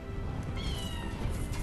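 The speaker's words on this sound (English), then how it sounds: "Look, it starts off with the cute meow." A cute cat meow from a video game battle pass cosmetic item, a drawn-out mewing call with rising and falling harmonics over a steady background, heard alone with no talking.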